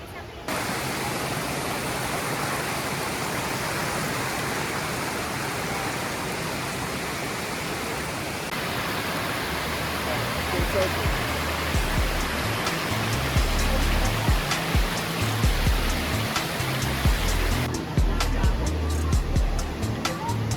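Rushing water roars continuously at the waterfall in Cat Cat Village, Sapa, a loud, dense wash of noise that swells slightly louder partway through, with no clear speech.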